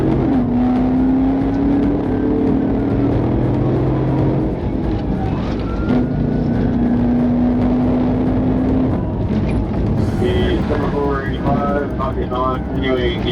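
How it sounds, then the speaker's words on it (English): A stolen muscle car accelerating in an urban police pursuit, its engine roaring with rising and falling revving tones over loud, steady road and wind noise, while a siren-like wail enters near the end. "Dexter Lamar Williams peeled away and initiated a desperate urban pursuit"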